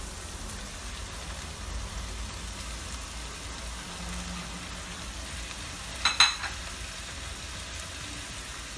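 Pork searing in a pressure cooker with onion and tomato, a soft steady sizzle like light rain throughout, with one brief pair of clinks near the end.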